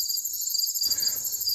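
Dense, steady high-pitched trilling of crickets and cicadas on a summer night, a continuous shimmering chorus with no voices, like a sleep-sound recording.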